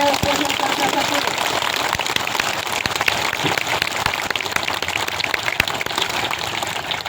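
An audience at a Marathi public speech gives loud, sustained applause. Dense clapping fills the whole stretch at a steady level, with a voice briefly audible over it near the start.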